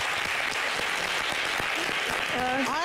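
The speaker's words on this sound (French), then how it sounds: "on applaudit pour ce peuple" Crowd applause on a French fashion television show, moderate clapping throughout with a voice starting to talk over it near the end.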